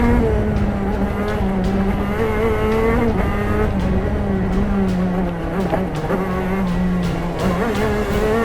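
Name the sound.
racing kart engine on a flying lap at Daytona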